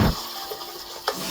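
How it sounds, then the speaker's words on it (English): Steady rush of running tap water rinsing beans, fairly close, with a brief splash near the start and another near the end. "I rinse it with running water twice"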